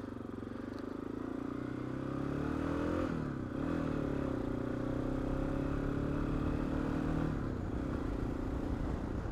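A Yamaha Tenere motorcycle is ridden at steady speed, its engine droning continuously up close with a brief dip and shift in pitch partway through, wind and road noise mixed in.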